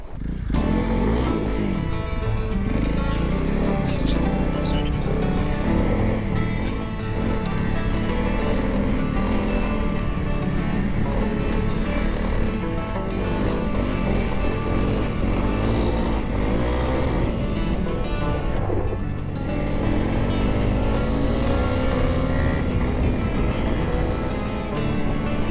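Adventure motorcycles on a dusty off-road track in Portugal roar continuously and loudly, engines revving hard as they power out of corners, with heavy wind buffeting throughout.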